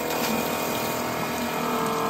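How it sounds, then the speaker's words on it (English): Steady, loud rush of a small pump forcing vinegar through a hose from a tankless water heater into a bucket, continuous and even with a faint tonal whine throughout. "what we should see when I switch this on is a very heavy flow of vinegar coming out of this hose"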